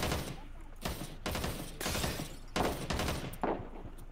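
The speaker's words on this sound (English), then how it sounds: "Someone's shooting at me." Gunfire in Ring of Elysium, a few bursts of shots in separate clusters with short gaps between them, fairly faint and distant.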